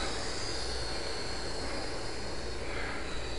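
A FlyZone Playmate model airplane flies nearby, its small motor a steady high whine over constant wind-like noise, with no talking.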